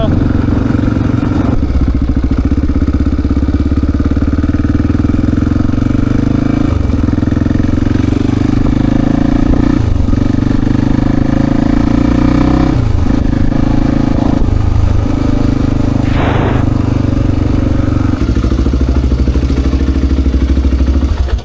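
A Honda XR400 motorcycle rides on with a loud, steady engine drone, the revs rising and dipping between gear changes, and a voice talks over it at times.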